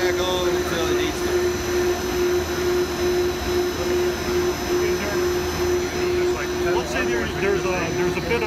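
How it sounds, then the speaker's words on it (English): Travaini liquid ring vacuum pump running with a steady droning hum and a constant tone, while people talk over it. "There's a bit of a demand, so the pump runs for 10 minutes and shuts off."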